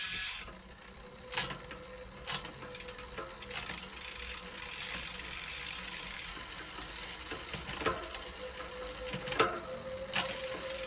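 A bicycle rear derailleur on a freshly replaced hanger shifts through the gears, a steady freewheel ratchet whir with sharp clicks of each shift at irregular intervals, close up and with no talking.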